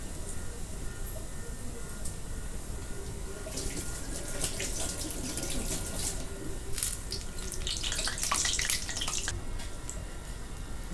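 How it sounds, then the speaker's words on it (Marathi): Vadas for vada pav deep-fry in oil over a medium gas flame, a loud, steady rushing hiss with denser crackling bursts in the middle and later stretches. "आता गॅस मध्यम करते आणि मध्यम गॅसवरती चांगले तळून घेते"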